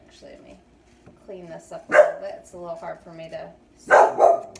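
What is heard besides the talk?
dog barking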